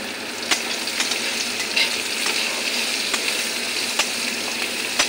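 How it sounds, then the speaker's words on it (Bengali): Chopped onion and crushed garlic fry in a hot pan with a steady close sizzle, broken by a few sharp stirring scrapes and clicks, with no voices. "দেখো পেঁয়াজ রসুনটা আমার সুন্দর ভাজা ভাজা হয়ে গেছে"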